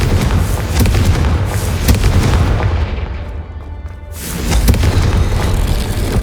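A Confringo fire spell blasts in Hogwarts Legacy, heavy booming explosions rolling over a dense rumbling game soundscape, easing briefly before another loud burst swells back up.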